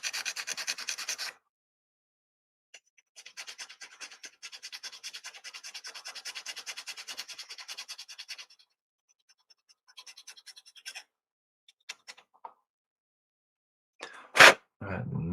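Short scratchy rasping strokes of a file on a small model part, first in a quick burst and then in a longer run of strokes, with scattered light taps and a sharp bump near the end.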